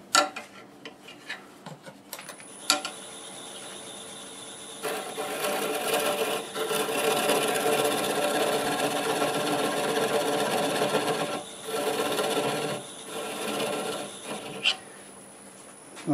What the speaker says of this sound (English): I'm going to switch to a spindle gouge here.